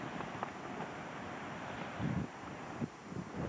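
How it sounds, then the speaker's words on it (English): Wind gusts outdoors while a trout is cleaned, producing a constant, fairly loud rushing buffet with brief stronger surges and no talk. "A little wind kicking up here."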